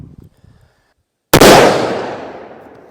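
A single loud, sharp gunshot from a Ruger No. 1 rifle fired outdoors, cracking suddenly after near-silence and trailing off in a long, fading echo.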